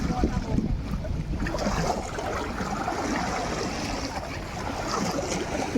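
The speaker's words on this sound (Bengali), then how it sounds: "জাহাজটা গেল বলে এত ঢেউ।" The wake of a passing ship at Uluberia makes water wash and churn, a loud, continuous broadband rush close by.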